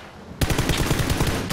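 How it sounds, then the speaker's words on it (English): A rapid automatic burst of gunfire in the battle royale game PUBG, starting abruptly and rattling on as a steady, loud stream of close shots for just over a second. "That guy's shooting us from the right."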